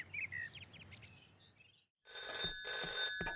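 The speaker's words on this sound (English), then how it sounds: "the phone rang in Pat's house" A telephone rings in a house in a 1997 animated village setting. It is a bright electronic ring in repeated bursts, preceded by birdsong chirps and a short silence.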